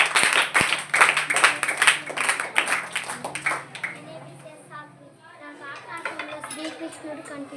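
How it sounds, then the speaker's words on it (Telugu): Several seconds of brisk group clapping in a children's meditation class, dense and uneven, give way to lively children's chatter and clinking sounds in the background. "రాముడు కనిపించారు క్లాప్స్ క్లాప్స్ క్లాప్స్"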